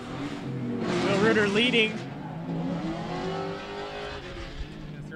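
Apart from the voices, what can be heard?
drift cars in tandem, E36 chassis, M52 turbo and V8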